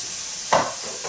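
Chicken filling for curry puffs stir-fried with ground pepper in a pan, a steady sizzle with one sharp scrape of the spatula partway through and softer stirring after, close and alone.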